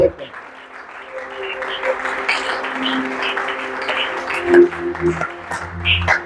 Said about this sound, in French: Si vous l'acclamez, faites-le correctement.